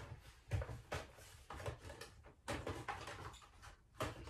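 Plastic case of a TIS 870 plug-in socket tester being opened by hand, a run of close clicks, snaps and scraping handling knocks at irregular intervals with no talking.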